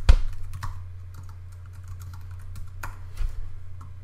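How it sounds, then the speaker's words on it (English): Quick, scattered keystrokes on a computer keyboard, a few sharper clicks standing out over a low steady hum, close by with no voices. "you can just click and start typing"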